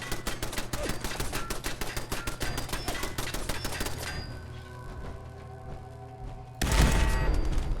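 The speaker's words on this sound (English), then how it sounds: "Let's actually turn on the turrets now." Video game turrets firing in rapid, evenly spaced bursts for about four seconds, then a quieter lull with faint mechanical noise before a loud rumbling burst near the end.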